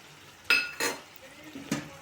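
Spoon stirring carrot and tomato curry after chili powder and coriander powder go into the pan, village-style cooking: a few brief scraping clinks, two sharper strokes close together, then a softer scrape, fairly close and moderately quiet with no talk.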